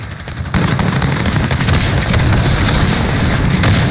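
Air-support strike explosions and gunfire in the Modern Warfare 2019 video game: dense, loud rumbling blasts and rapid shots roll on continuously, growing heavier after a brief quieter start.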